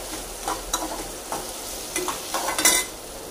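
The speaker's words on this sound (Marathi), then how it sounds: "कांदा परतून झाल्यानंतर आपण ह्याच्यात हे टोमॅटो ऍड करणार आहोत" Onion and tomatoes fry in a pan while a spoon stirs them, close sizzling broken by several scraping stir strokes that grow busier toward the end, with no voices.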